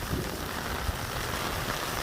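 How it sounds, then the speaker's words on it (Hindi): Heavy monsoon rain pours over a forest in Gauchar, drumming steadily on branches and leaves as a dense, continuous hiss with no talking. "तेज़ बारिश है और बारिश का पानी"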